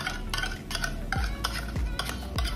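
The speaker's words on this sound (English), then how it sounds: "First, we will mix the Nestle cream" Nestle cream and condensed milk being mixed in a bowl, a rhythmic series of close utensil scrapes and soft knocks against the dish, several strokes repeating about every half second.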